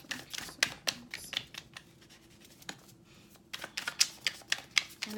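Crisp rapid riffling of tarot cards shuffled close up, in bursts with a short quieter pause between them.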